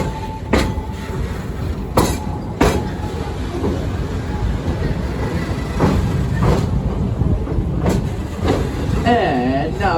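Serengeti Express train riding through the animal park at Busch Gardens Tampa Bay, with a steady rumble of cars on the rails and a few sharp clanks and knocks, while a guide talks over it.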